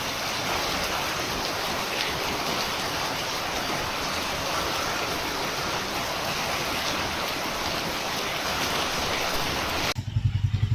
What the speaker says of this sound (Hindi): This is the view of street, जिसमें देखो पानी कैसे बह रहा है नाले की तरह।